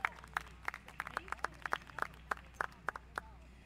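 An outdoor park music audience claps after a song, a small scattered round of separate, distinct hand claps, moderately close, with a few people clapping irregularly rather than a dense roar.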